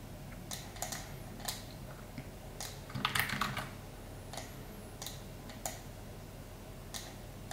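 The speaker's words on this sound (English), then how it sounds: "So I've just used Control C and Control V on my keyboard." Computer keyboard keys pressed for copy and paste shortcuts, faint scattered clicks spaced irregularly over a soft steady background hum, with one brief cluster of taps in the middle.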